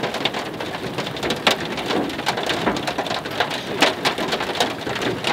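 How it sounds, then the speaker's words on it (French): Heavy, large hailstones pounding down in a dense, steady clatter, with sharp individual impacts cracking out above the continuous roar. "On prend la plus grosse grêle là."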